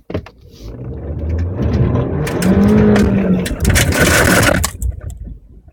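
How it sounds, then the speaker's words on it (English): A Chevrolet Trax accelerates hard on grass, its engine roaring loudly and steadily for several seconds before dropping away near the end. "I'm gonna just step on the throttle really hard, and you will see what happens."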